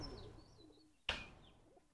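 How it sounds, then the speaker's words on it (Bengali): A rocket breed pigeon gives a faint, low coo in a quiet space, with one sharp click or flutter partway through. "এইখানে দেখেন আরো একটা কবুতর আছে"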